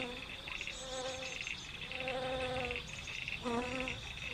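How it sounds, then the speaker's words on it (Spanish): Several flies buzz close by around a dead fish on a shore, their whining drones rising and falling as they circle, with a constant insect hum in the background. "Un pez muerto en la orilla atrae la atención de un ejército de moscas."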